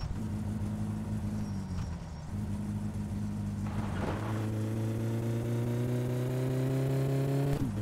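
Car engine in the video game My Summer Car, a homebuilt rally car, idling steadily with a low hum. It revs up with a whoosh, then holds a higher steady drone, moderately loud, with no talking.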